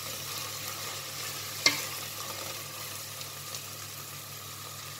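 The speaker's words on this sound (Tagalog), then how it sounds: "magigisa muna tayo ng ating sibuyas" Onions sauté in a pan while burgul rice with BBQ mince beef is prepared, a steady soft sizzle with one sharp utensil tap early on, no voices.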